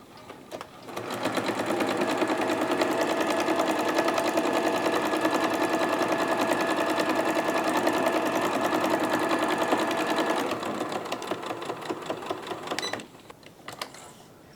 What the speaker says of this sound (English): use my sewing machine and just run a line of stitching down there